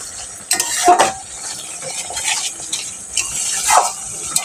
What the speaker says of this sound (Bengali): মিশ্রণটাকে দিয়ে এখন আমি ঘেটে নেব বন্ধুরা এই মশলাটাকে এখন ভালো করে আমি কষিয়ে নেবো